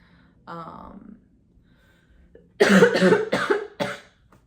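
A breathy throat sound, then a pause and a close, loud fit of three or four rough coughs in a row from a person who is ill.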